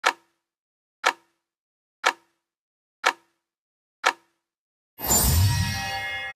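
A clock strikes five evenly spaced metallic chimes about a second apart, each ringing briefly and decaying, followed by a burst of bright, noisy sound at the end.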